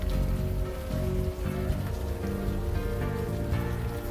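Steady rain patters on surfaces in the video game Unavowed, a soft continuous wash of droplets layered under low ambient tones, with no voices.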